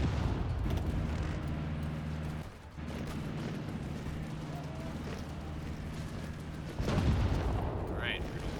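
Tank battle in the strategy game Hearts of Iron IV: Kaiserreich, a continuous rumbling wash of distant artillery-like booms and mechanical clatter with a brief dip, then a louder burst of blasts near the end.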